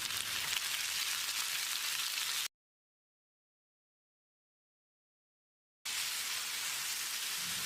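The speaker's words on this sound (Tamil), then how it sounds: "1/4 கிலோ அளவுக்கு நறுக்கின தக்காளியை சேர்த்து மசிகிற அளவுக்கு வதக்கிடலாம்." Chopped tomatoes sautéing in a pan with softened onions for a restaurant-style chicken gravy: a steady, close, rain-like sizzling hiss in two stretches separated by a gap of silence, with no talking.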